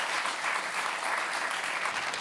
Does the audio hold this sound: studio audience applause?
yes